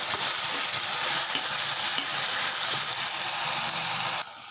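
Veg chowmein noodles with red chili sauce and tomato sauce being stir-fried in a pan, a loud, continuous close sizzle and hiss with light scraping as the mix is stirred, cutting off abruptly near the end.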